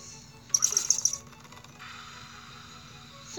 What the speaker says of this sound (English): I wonder if those little birds go up to the big bird.